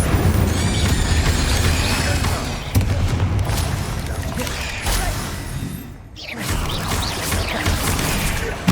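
Incendio fire spell cast in Hogwarts Legacy amid a PS5 battle: dense, continuous game combat with booming blasts and crackling impacts, loud throughout, with a brief dip near the end before the fighting noise resumes.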